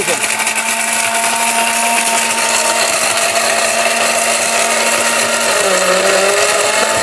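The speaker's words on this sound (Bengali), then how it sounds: "আটশো ওয়াটের ব্লেন্ডারে এই হলুদ করবে" A Rupsha 800-watt blender motor whirs loudly and steadily at close range while grinding turmeric, its pitch dipping slightly near the end as it keeps running.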